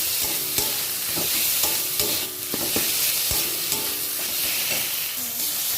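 Ginger garlic paste sizzles and is stirred in a hot pan for a potato, pointed gourd and soya chunk curry, with steady frying crackle and repeated scraping strokes, close and fairly loud, no voices.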